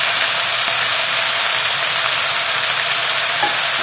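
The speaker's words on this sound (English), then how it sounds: "Just all cooking away nicely in the pan." Pork for a beer-braised dish sizzles steadily in a pan, a loud, even hiss of frying that runs unbroken for several seconds with no voices.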